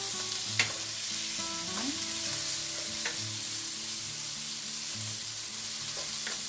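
Ground pork and tomato fry in a pan with an even, loud sizzle that carries throughout, while faint sustained tones hum softly underneath.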